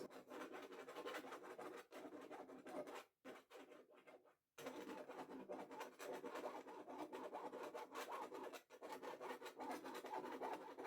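A palette knife scratches crosswise cuts into wet acrylic paint, giving a faint, continuous raspy scraping with two brief pauses.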